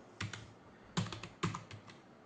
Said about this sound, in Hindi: तो अभी मैंने कीबोर्ड में एप्पल टाइप किया है।